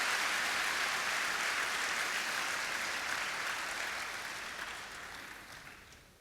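Applause from a church congregation fills the room, steady and dense at first, then gradually thinning and fading toward the end.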